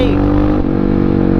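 A brief, loud burst of a Honda XR650R supermoto's engine: a close, rumbling drone that drops in pitch partway through as the throttle eases.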